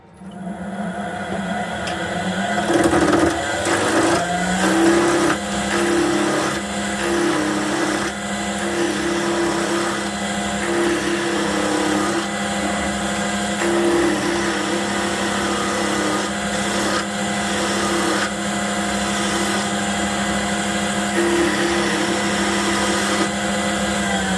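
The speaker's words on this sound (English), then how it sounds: "With the spindle gouge, you turn on center. Now, let's rough this down." A wood lathe spins a spindle while a spindle gouge roughs it down, giving a loud, steady motor whine with a continuous scraping, chattering cut throughout.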